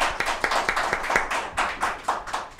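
Brief, fairly faint applause on a talk show, a handful of distinct, rhythmic hand claps rather than a large roaring crowd.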